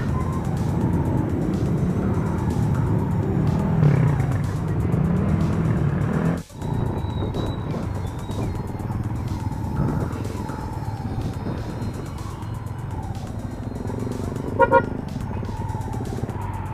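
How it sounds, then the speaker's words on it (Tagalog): City street traffic with cars and motorcycles, a continuous engine rumble passing close by, with a brief car horn toot near the end. "Traffic."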